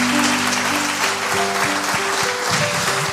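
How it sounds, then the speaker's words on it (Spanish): Crowd applause in a church service, steady and fairly loud, with music playing underneath throughout. "Le damos un aplauso a Jesús por su palabra."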